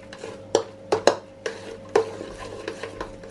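A spoon stirs a thick mochi filling mixed with Nutella in a bowl, giving a series of sharp, close knocks and scrapes at an uneven rhythm, with no talking.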